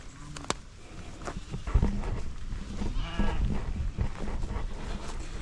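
Goats and sheep feeding on invasive thistle while clearing farm land, with several close bleats rising over constant rustling, munching and outdoor noise.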